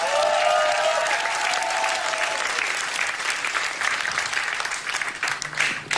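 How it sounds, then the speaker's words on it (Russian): Theater audience applauding at a Russian comedy sketch show as a skit about a cooks' guild begins, a loud, dense, sustained round of clapping with some crowd noise, tapering slightly toward the end. "Под ваши аплодисменты!"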